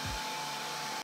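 A hair dryer blows a steady, loud whooshing stream of air to heat a Google Pixel 3a phone with salt water damage for disassembly, with a short low thump as it starts.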